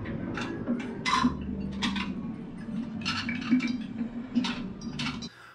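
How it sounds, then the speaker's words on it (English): Dishes being washed as a themed sound effect at the Three Broomsticks in Universal Orlando, with repeated clinks of plates, cutlery and glass and sloshing water, heard steadily at moderate distance. "be sure you walk to the left of the restaurant, behind Honeydukes, to hear the house elves washing the dishes"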